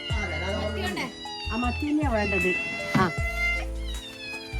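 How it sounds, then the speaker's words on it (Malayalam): Two cats at a fish stall meow repeatedly in drawn-out, wavering cries, close and clear, while a person talks over them. "ഇങ്ങൾ കണ്ടിട്ട് 2 പൂച്ച വരുന്നുണ്ട്"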